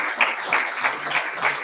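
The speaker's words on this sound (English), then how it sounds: "I think another round of applause" Audience applause at a positivity award ceremony, a crowd of hands clapping steadily with slight pulsing swells, moderately loud and heard on its own without speech.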